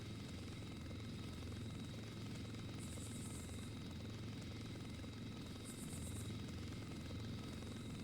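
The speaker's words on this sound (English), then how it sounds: "There's 2 helicopters in there." Two military helicopters hovering in a first-person shooter video game, a steady droning rotor and engine hum with a high whine coming and going, continuous and fairly faint, with no talk.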